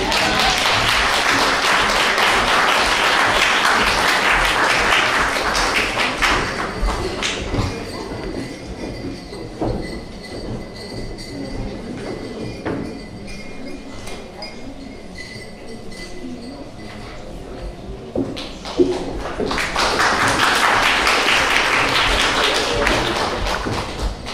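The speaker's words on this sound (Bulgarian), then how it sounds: "аплодисменти" A festive concert audience at a Bulgarian community cultural centre's centenary celebration breaks into loud, dense applause, which thins to a quieter murmur with a few scattered claps before swelling again into a full burst.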